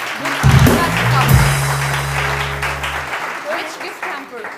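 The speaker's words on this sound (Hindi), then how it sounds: "बहुत सारी तालियां तो बजा दीजिए" A studio audience at a televised morning talk show bursts into applause, a dense wash of clapping that runs through the whole stretch, mixed with a low sustained tone and scattered voices.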